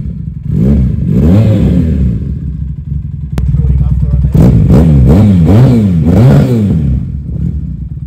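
A Braaap Cruiser 400 learner-approved motorcycle engine revs up and down several times at close range, loud and throaty with rising and falling sweeps, and a short lull in the middle.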